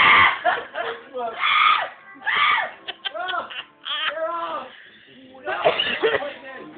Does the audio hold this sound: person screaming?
yes